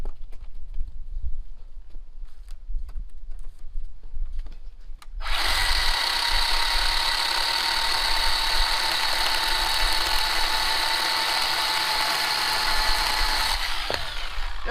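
A Harbor Freight 20-volt 10-inch cordless chainsaw cuts through magnolia wood. A few seconds of quiet handling come first, then the saw whines at a steady high pitch for about eight seconds of continuous cutting, close and loud, with no talking.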